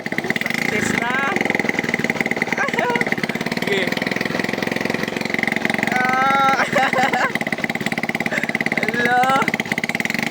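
A motorcycle engine rigged to drive a broken water pump runs loud and steady at a constant idle-like drone, with a person speaking briefly over it.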